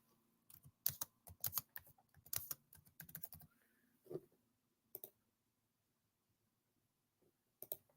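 Irregular clicking bursts of a computer keyboard being typed on, close and fairly quiet, with quick runs of keystrokes early on, then scattered single taps and pauses, no talking.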